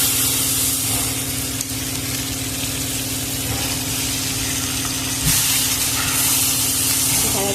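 Fish heads sizzle and spit in hot oil in a pan, a steady broadband hiss over a constant low hum, with brief louder bursts and faint speech in the background.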